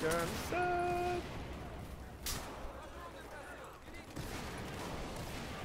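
Bursts of gunfire in Battlefield 4 on the Operation Locker map, rattling in short runs among electronic game tones and noise, with a sharper crack partway through.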